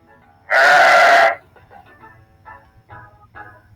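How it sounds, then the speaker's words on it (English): A single loud, wavering sheep bleat lasting under a second, followed by faint scattered background sounds. "Sheep."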